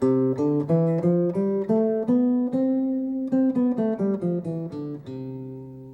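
A plucked acoustic guitar climbs up a major scale note by note and then walks back down, played steadily and close with no voices.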